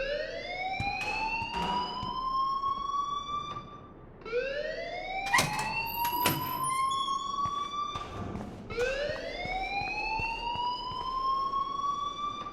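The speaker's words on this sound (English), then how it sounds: "please turn off that alarm since that's your job" A wailing alarm in the video game Life is Strange rises in pitch over and over. The siren-like sweeps come in three long, repeating cycles. Sharp clicks punctuate it and no one speaks.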